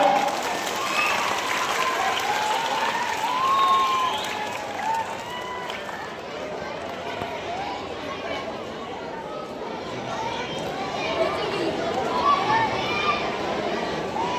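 Audience at an Eid-e-Milad-un-Nabi celebration and award ceremony in Kalamb breaks into sustained applause, a dense steady clapping wash lasting the whole stretch, with crowd chatter mixed in.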